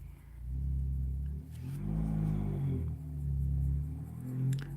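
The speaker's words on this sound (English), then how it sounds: "the background noise of the traffic and whatnot." Road traffic rumbling in through an open window, a steady low car-engine drone that swells as vehicles pass, continuous and moderately loud with no talk over it.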